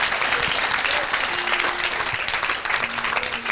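Congregation at a church service clapping to acclaim Jesus Christ, a continuous, loud wash of applause filling the room with a few voices underneath.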